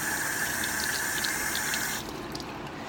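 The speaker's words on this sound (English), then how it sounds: "I'm just running it under some water right now" Tap water runs steadily as a silver chain is rinsed under it, a close, constant splashing gush that shifts slightly in tone partway through.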